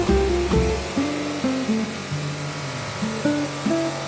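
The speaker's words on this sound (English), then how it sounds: "The sander is a 1-inch by 30-inch belt sander" A 1-inch by 30-inch belt sander grinding PVC, its motor whining in steady tones that dip and rise as the plastic is pressed against the belt, close and loud with no talk.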